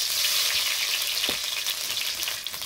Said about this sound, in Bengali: এখানে কড়াইতে কিন্তু তেল দিয়ে আমি এই যে পেঁয়াজটা বেটে নিয়েছি।